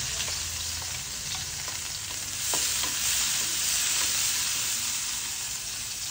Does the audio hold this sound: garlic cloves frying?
yes